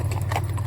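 A Friesian filly's hooves clip-clop at a walk, a short burst of close, even hoof steps over a steady low background hum.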